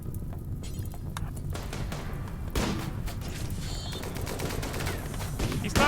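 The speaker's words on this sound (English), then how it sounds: "They got you with one needle gun." Needle gun fire in the RimWorld video game, heard as scattered shots and bursts over a dense, low-rumbling battle backdrop of moderate loudness.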